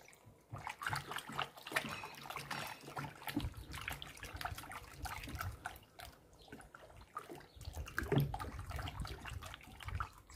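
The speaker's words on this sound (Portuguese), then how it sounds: "Já tá no fogo, tá? 1 litro de água fervendo." Boiling water pours and splashes continuously into a container, with some trickling and small clinks, fairly quiet and close.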